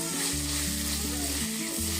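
Jackfruit flower pieces sautéing in a pan, a continuous close sizzle and crackle with a low steady hum underneath, no one speaking.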